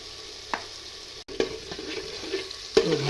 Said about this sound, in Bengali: তো ভালো করে ফ্রাই করে নেওয়া হচ্ছে